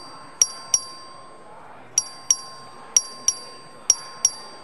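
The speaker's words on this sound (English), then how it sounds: "The clerk will ring the bell." A clerk rings the vote bell on the Texas House floor: bright, sharp dings that come in close pairs, repeated four times with short pauses, each ring decaying quickly over quiet room tone.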